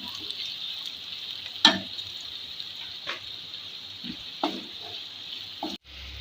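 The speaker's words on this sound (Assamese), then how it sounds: "অকণমান নিমখ দি দিছোঁ যাতে পিঁয়াজখিনি সোনকালে ফ্ৰাই হওক" Chopped onions with a little salt fry in a pan for capsicum chicken masala, a soft continuous sizzle with a few sharp stirring clicks and scrapes scattered through.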